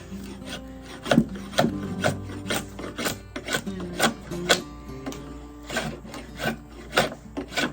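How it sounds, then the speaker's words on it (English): A bevelled blade hogs big chunks of wood out of a hickory bow limb in repeated close, rough scraping and shaving strokes, some sharper and louder than others, with no speech. "while I'm trying to hog wood out, I do have my bevel turned the opposite way"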